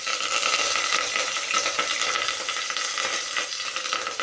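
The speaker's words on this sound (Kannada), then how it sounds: "ಒಂದು ಪಲಾವ್ ಎಲೆ ಹಾಕಿ ಒಗ್ಗರಣೆ ಚೆನ್ನಾಗಿ ಬೇಯಿಸ್ಕೊಳ್ಳೋಣ" Onion, green chilli, curry leaves and garlic sputter and crackle steadily in hot oil as an Indian tempering fries, a dense close sizzle running without pause.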